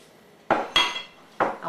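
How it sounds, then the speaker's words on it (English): A spoon clinks and scrapes in a bowl while spinach, garlic, salt and pepper are stirred together, three separate close knocks with short rattling tails, sparse and crisp in a quiet kitchen. "So I'm just going to put all this in here and stir."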